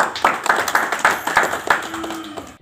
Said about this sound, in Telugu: చప్పట్లు కొట్టురు బాబు.